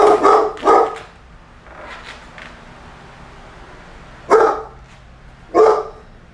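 A dog barks in two separate pairs of sharp, loud barks close by, with quiet pauses in between.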